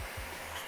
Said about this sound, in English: this is normal vacuuming, right? You have to go back over it several times